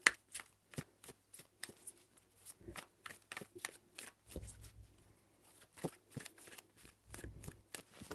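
Tarot cards are shuffled by hand in a quiet room, a series of crisp, close riffling and tapping bursts in an uneven rhythm, with no voices.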